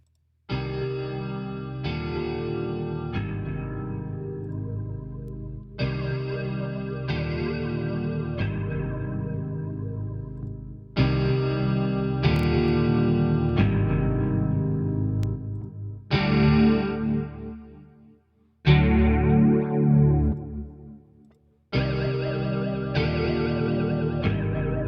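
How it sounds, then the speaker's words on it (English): Electric guitar chords and arpeggios run through Native Instruments Flair flanger effects, sweeping and swirling, played in repeated close phrases with short pauses between passages and no talking. "demonstrate the flanger, the different style flanger effects"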